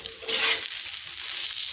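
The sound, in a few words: egg frying with green chilli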